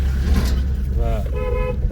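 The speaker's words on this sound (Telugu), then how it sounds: "సింగిల్ రోడ్డు సో ముందే హార్న్ కొట్టుకుంటూ వస్తారు" A car horn toots twice in a row on a single-lane mountain road in Himachal Pradesh, over steady road and engine noise, with voices in the background.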